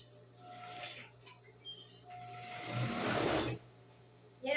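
A sewing machine stitches a dress seam with a backstitch: a few short bursts of whirring, then a longer, steady run of rapid stitching that stops abruptly, heard up close.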